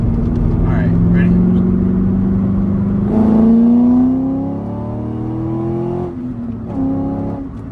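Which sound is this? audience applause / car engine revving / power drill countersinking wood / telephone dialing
car engine revving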